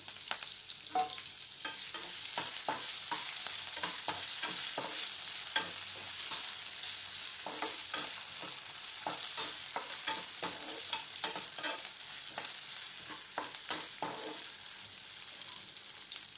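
Finely chopped potato frying in a pan for sabudana khichdi, a steady close sizzle with repeated scraping stir strokes throughout, no voices.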